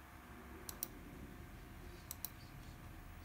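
Faint computer mouse clicks sound in two quick double-click pairs, spaced about a second and a half apart, over a quiet room hum.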